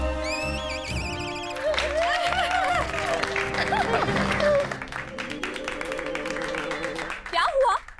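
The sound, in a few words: people clapping in applause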